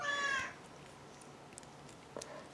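A cat meows once indoors, a short clear faint call at the start, followed by quiet room tone with a few soft clicks and a small bump near the end.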